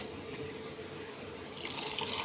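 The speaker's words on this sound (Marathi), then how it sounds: "आपण याच्यात थोडंसं पाणी टाकणार आहोत." Water poured into a mixer-ground paste for making nangya juice, a brief, faint splashing pour that rises slightly toward the end, with no voices.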